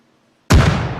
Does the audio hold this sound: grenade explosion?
yes